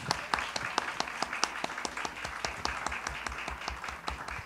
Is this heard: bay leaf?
no